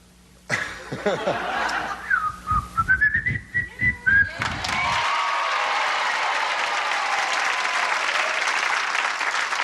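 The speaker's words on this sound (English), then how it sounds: "Can you sing, can you whistle? Take the mustache, whistle Dixie for me." A man whistles a tune on a game show stage, his whistle rising through a few bars over chuckles from the studio audience, and then the audience breaks into sustained loud applause that runs to the end.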